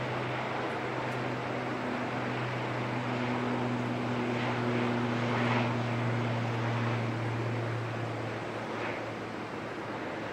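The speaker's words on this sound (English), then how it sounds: "Nice to hear the turboprops operating again" ATR turboprop engines run at Auckland Airport in fog, a continuous low droning hum with steady propeller tones beneath a broad wash of engine noise, sustained at moderate distance without talk.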